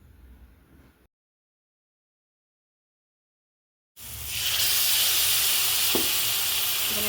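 Spice paste hits a hot pan and sizzles loudly and steadily, with a bright hiss that follows a short stretch of quieter kitchen noise and a moment of silence.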